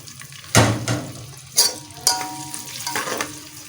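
Onions dropped into hot ghee for palak gosht aloo, hitting with a loud sizzling burst and then crackling on with several stirring swells, close and alone.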